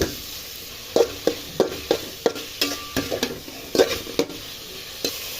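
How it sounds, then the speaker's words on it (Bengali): Beef tripe stir-fried in a pan with ginger garlic paste and chili powder, a steady sizzle broken by a dozen sharp scraping strokes of a spatula at an uneven, brisk rhythm, close and clear with no talking. "এবারে আমি ভুড়িগুলো দিয়ে দিচ্ছি, ভালো করে কষিয়ে নেব অনেকক্ষণ।"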